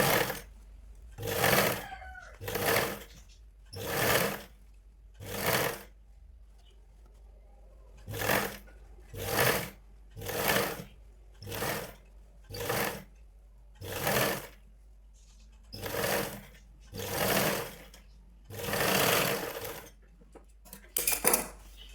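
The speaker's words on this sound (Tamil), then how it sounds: "இப்போ அதே மாதிரி இன்னொரு தையல் கொடுத்துக்கோங்க." A sewing machine stitches a blouse in a steady series of about a dozen short, loud whirring bursts, each lasting roughly a second and separated by brief pauses, heard up close with no talk.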